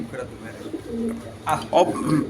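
Racing pigeons from a club loft give soft low coos, then a couple of louder, throatier bursts near the end, close by in a quiet space.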